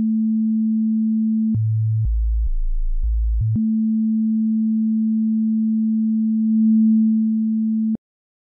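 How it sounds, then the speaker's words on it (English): Pure sine-wave tone from a synthesizer's sub-oscillator, loud and steady, stepping down in pitch through a couple of octave settings before returning to the original note and stopping abruptly. "It has a sub-oscillator that consists of a simple sine waveform and an octave range rotary."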